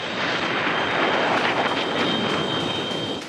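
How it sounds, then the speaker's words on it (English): MiG-21 fighter jet in flight, a loud continuous roaring engine rush with a high whine, close and steady throughout, with no voices. "Introduced in 1963, the MiG-21 wasn't just a fighter jet."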